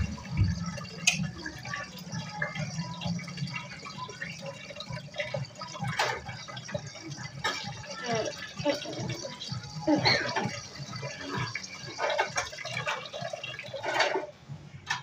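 Water runs and splashes steadily into a container, with scattered drips and clinks, close by, throughout.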